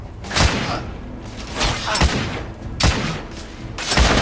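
Gunfire in the video game The Order: 1886, loud repeated bursts of shots with heavy thuds landing about every second in an irregular, close barrage.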